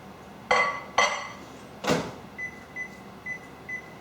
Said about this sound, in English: So I'm going to put it back in the microwave.